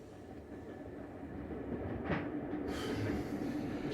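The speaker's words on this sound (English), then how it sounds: "I should be convalescing, not rattling my battered bones on the slow train to hell" A slow train rattles along at close range, a steady rumbling clatter of wheels and carriage that swells slightly louder toward the end, with no voices.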